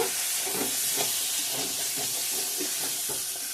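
Chicken kosha fries in oil in a pan, giving a steady, moderately quiet sizzle and hiss with soft irregular crackles.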